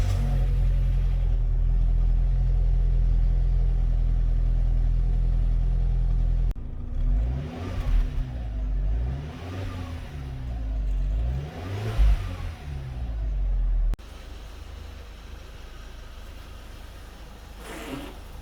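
A 2004 Audi A4 1.8T turbo with a six-speed manual and its stock catalytic converter idles with a steady low rumble, then revs up and down several times before settling back to a lower idle, with no talking.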